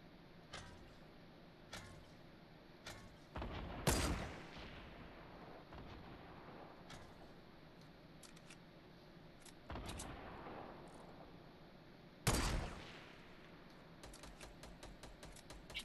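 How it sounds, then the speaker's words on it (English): Grenade launcher shots boom in a Fortnite match, with several separate heavy blasts spaced seconds apart among quieter clicks and small impacts. "if you can shoot out the bottom of that with your grenade launcher"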